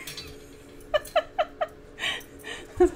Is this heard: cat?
yes